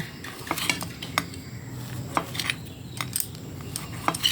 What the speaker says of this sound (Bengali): তো আমি ব্রেডটাকে একটা চাকু দিয়ে এই সাইডগুলোকে কেটে ফেলে দেব।